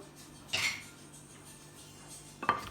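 Seasoned potatoes tossed with oil in a bowl give two distinct clinks of a utensil against the dish, one early and one near the end, with quiet room tone between and no talking.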